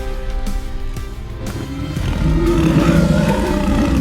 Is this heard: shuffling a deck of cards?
no